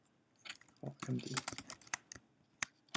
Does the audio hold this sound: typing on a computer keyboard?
yes